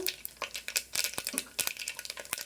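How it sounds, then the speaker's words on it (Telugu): Mustard seeds splutter and pop in hot oil for a horse gram rasam, with sharp irregular crackles bursting close and loud over a faint sizzle, no talk. "చూడండి ఆవాలు ఎట్లా చిట్టపట్లు ఆడుతున్నాయి"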